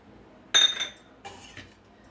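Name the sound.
mixing mutton pickle with lemon juice in a bowl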